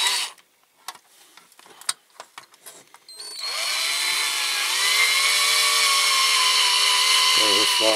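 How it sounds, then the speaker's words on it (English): A small electric drill bores out a rivet on a die-cast Dinky Bedford toy lorry, starting after a few clicks and handling noises and then whining steadily and loudly at close range for several seconds. "Right, let's get this rivet drilled."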